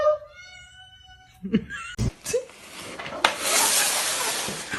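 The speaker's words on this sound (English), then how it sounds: "Let me hear a meow." A cat gives a clear drawn-out meow up close, then rustling and a burst of broad noise follow.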